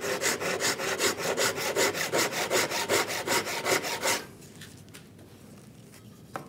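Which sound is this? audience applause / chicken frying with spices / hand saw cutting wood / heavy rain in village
hand saw cutting wood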